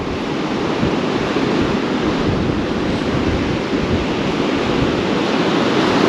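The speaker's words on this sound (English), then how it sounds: "Trying to block as much wind out as I can" Strong wind roars steadily across a UK seashore at Kilnsea during a sea-fishing session, a loud, unbroken rush buffeting the microphone, with surf mixed in and no voices.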